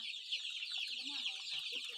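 Young Pradu Hang Dam native Thai chicks, one to two weeks old, cheep and cluck in a dense, continuous chorus at close range, with faint murmuring voices underneath.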